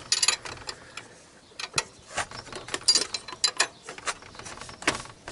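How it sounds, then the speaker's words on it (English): A ratchet fitted with a 17mm socket tightens belt tensioners in short bursts of clicking pawl ratcheting, separated by brief pauses, close and fairly clear with no talking. "So to tighten these tensioners up, once you've adjusted the belt tension, get the 17mm back on there."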